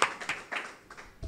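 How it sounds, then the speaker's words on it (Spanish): Audience applause for the speaker at a book presentation on weird western cinema: a short spell of scattered, moderate hand claps, uneven and fading briefly before another burst near the end. "os pido por favor un aplauso para Jesús Palacio"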